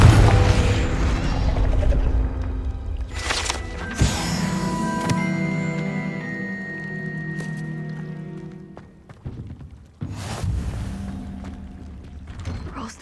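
A Confringo fire spell explodes in a Hogwarts wizarding video game, with sharp booming bursts near the start and again later, set against a steady layer of orchestral game music.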